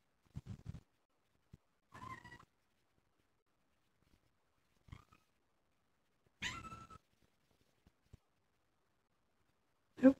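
A cat in a beauty salon meows several times, short separate calls spaced across a quiet room, with one louder sharp cry at the end.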